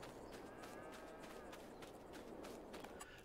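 Cows moo faintly inside a barn in Farming Simulator 22, low calls sitting under a steady wash of ambient barn noise.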